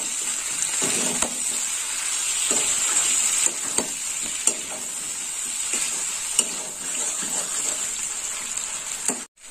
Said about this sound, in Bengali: দিয়ে দিলাম ভেন্ডি। তরকারিটা একসঙ্গে কষে নেবো।